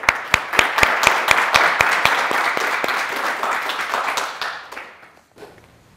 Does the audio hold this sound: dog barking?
no